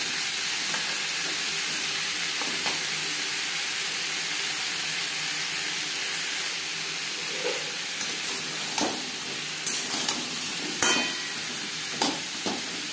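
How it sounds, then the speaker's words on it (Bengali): Potatoes and pointed gourd frying in a pan with salt and turmeric for a vegetarian curry give a steady, close sizzle. Occasional sharp spatula clicks and scrapes come through more often toward the end. "লবণ হলুদ আলু পটলের সাথে বেশ ভালো করে মিক্স করে দেবো।"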